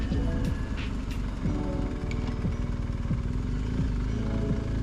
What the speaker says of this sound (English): A few bikes here already.